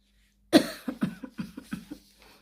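A single loud cough, followed by a run of about eight smaller rhythmic coughs that fade away, heard close and alone in a quiet room.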